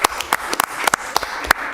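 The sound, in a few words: council meeting audience clapping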